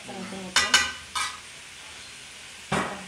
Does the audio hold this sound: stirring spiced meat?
yes